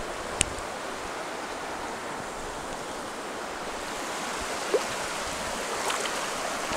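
Broad, steady rushing of flowing river water fills the scene, with a couple of faint clicks and no voices.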